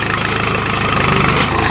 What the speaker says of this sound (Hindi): ये जो ट्रैक्टर चल रहा है अभी